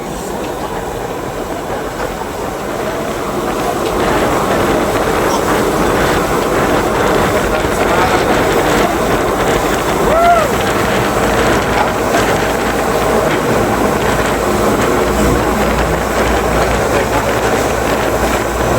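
A steady engine drone rumbles continuously over water, with wind buffeting the microphone and no break in the sound.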